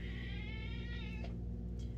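A house cat gives one drawn-out, wavering meow close by over a steady low hum, followed by quieter faint sounds.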